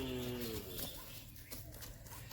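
A single short moo comes from desi cattle in the Konkan countryside. It is faint and somewhat distant, fades quickly, and leaves quiet outdoor background.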